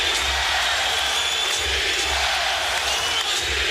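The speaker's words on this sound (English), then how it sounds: "Crowd on its feet chanting defense." A basketball arena crowd in a 2009 Lakers vs Nuggets playoff game stands roaring, with a rhythmic chant of defense pulsing through a dense, loud wall of cheering.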